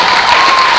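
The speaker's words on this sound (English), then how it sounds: "Give them a round of applause, you guys." Audience applause at a 2014 IFPA Pro bodybuilding show for a 40-plus division, a dense, loud and even wash of clapping from a crowd with no break.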